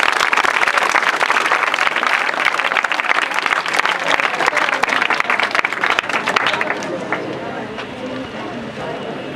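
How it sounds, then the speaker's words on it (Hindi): Audience applause and cheering at a Teacher's Day coaching-centre event, sustained and dense for about seven seconds, then thinning and fading out to scattered claps. "पहले भारत के लिए जोरदार ताली बजाइए।"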